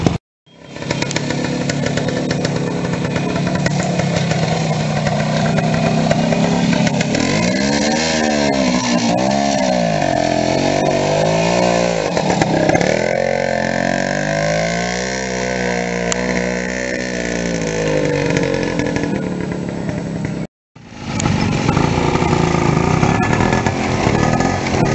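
A motocross bike is ridden at a motorcycle club trials event, its engine revving up and down in repeated bursts for a long stretch with a brief cut near the end.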